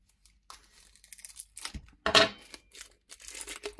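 Someone tears and crinkles open a nested plastic package from Temu holding sky-blue rectangular labels for a Phomemo M110 label printer, in several quiet bursts of ripping and crumpling separated by short pauses.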